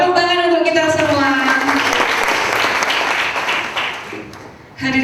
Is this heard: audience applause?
yes